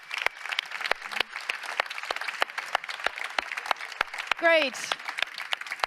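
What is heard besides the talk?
audience applause at a conference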